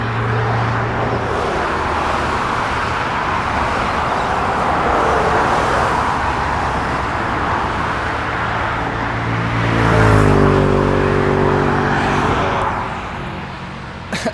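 Steady roadway traffic on a freeway near Jervis Bay on the New South Wales South Coast, a continuous close roar of passing cars with one louder vehicle swelling past near the end.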